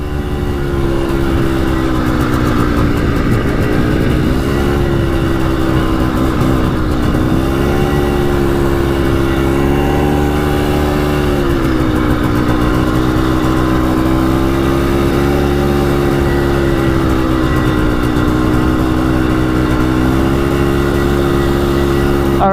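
A quad engine fitted with a new top-end piston and cylinder kit runs steadily at about half throttle, a loud, close, continuous drone with slight rises and dips in pitch.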